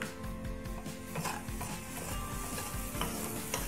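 Fried rice with sweet soy sauce and pepper is stir-fried in a pan, with a steady sizzle under rapid, rhythmic scraping and clattering of the utensil.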